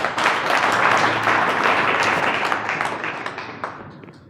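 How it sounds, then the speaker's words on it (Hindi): An audience gives a burst of loud, dense applause at a stage event. The clapping holds steady for a few seconds, then thins out and fades with scattered claps. "जोरदार ताली एक बार।"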